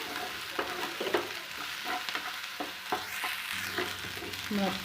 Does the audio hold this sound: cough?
no